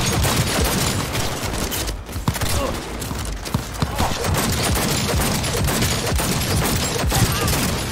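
Dense rapid gunfire in the video game Cyberpunk 2077, a near-continuous stream of loud shots with sharp sporadic bangs over a busy battle din.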